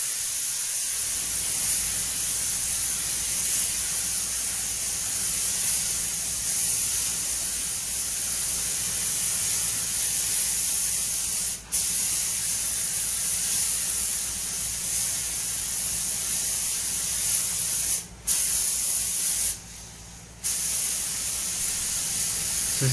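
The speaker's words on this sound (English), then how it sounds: "I'm going to be blowing the lacquer onto that top edge" Lacquer sprayed from a smart repair spray gun with a 1.0 tip onto the top edge of a repaired rusty wheel arch on a Mk7 Ford Fiesta, a loud, continuous close hiss broken only by a few brief pauses.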